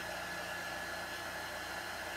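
A handheld heat tool dries chalk paste on a craft piece, giving a steady, close, even blowing whoosh with no other sounds.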